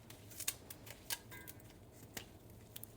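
Scissors snip the ends off flower stems, several quick, crisp close-up cuts spaced unevenly over a quiet room background.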